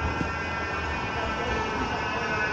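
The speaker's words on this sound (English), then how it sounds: "There's another tram now," A tram passes nearby, giving a steady, loud rumble and hum of rail transport that continues throughout, with no speech.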